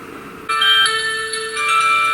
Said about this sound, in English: I hear the chimes ringing. I guess my eggs are done.